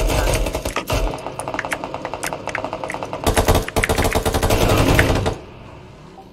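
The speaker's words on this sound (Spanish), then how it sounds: "Lo veo, le disparo." Rapid bursts of gunfire in a shooting video game, dense repeated shots over about five seconds, loud and close, then cutting off abruptly to quiet.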